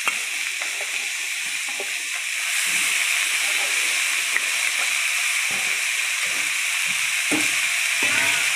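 Tender vegetable stalks hit hot oil in a pan alongside small fish, raising a loud, close hissing sizzle that swells midway and stays steady, broken by brief stirring knocks.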